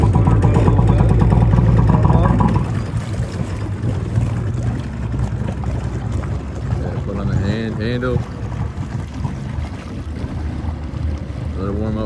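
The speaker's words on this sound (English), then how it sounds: "Lift up the choke and push the start button until it fires." Polaris 750 two-stroke watercraft engine cranking and catching, settling into a steady loud low drone with wind noise and water around it; a voice briefly speaks over the running engine.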